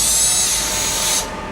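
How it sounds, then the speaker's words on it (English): A power drill whirs steadily in a bucket, mixing soybean seed treatment. The high, even whine runs close and loud, then cuts off abruptly near the end. "We need to take a drill in this bucket because we need to mix up a special seed treatment"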